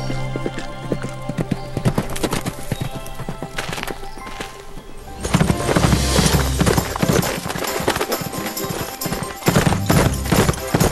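Rhythmic clip-clop of horse hooves from the video game Barbie Horse Adventures Wild Horse Rescue, with neighs, under game music that swells and grows louder midway.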